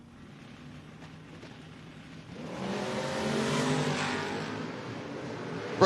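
Chevy Blazer and Camaro launching side by side in a drag race, engines roaring and building from a low idle rumble into a loud, sustained acceleration, with no voices.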